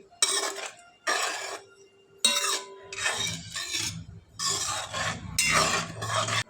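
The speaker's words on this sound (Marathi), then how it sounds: "पुन्हा एकदा मिक्स करते" A spoon scrapes and clanks around inside a metal pot of curry in several bursts of stirring, close and fairly loud, with short pauses between strokes.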